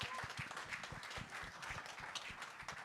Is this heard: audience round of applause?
yes